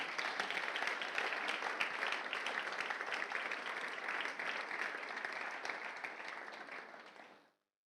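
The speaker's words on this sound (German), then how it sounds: "Hier gibt es einen Applaus." A church congregation claps in sustained applause for several seconds during a sermon, dense and even at first, then tapering off quickly and cutting to silence at the end.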